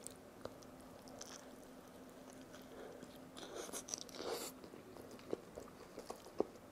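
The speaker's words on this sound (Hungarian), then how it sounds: "És most következik a harapás, ami elröpít minket Amerikába." A bite into a cheeseburger from a Hungarian burger place gives soft, faint crunching and chewing sounds, quiet and close, with a few small sharp clicks toward the end.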